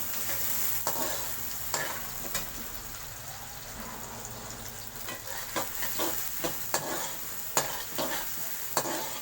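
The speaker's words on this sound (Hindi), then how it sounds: "ऑयल के बाद प्याज को ब्राउन करते हैं" Onions brown in hot oil with a continuous low sizzle, while a spoon stirs and scrapes the pan in repeated sharp knocks that grow more frequent toward the end.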